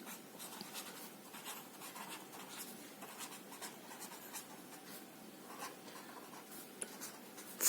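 Chalk or marker writing on a classroom board during a 7th-grade maths lesson on data handling, a steady soft scratching and rubbing that runs through the whole stretch at low level with no talk.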